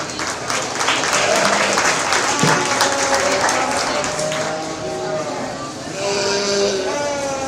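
An audience claps and cheers for the senior showmen at a sheep showmanship show, steady loud applause filling an indoor arena with a few whoops, fading slightly as a voice speaks over the clapping toward the end.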